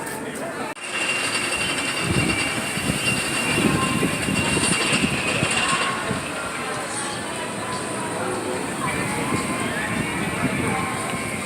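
The Firehawk roller coaster train rumbles along its track on its final day of running at an amusement park. The sound is a steady, loud roar with crowd noise and people talking nearby.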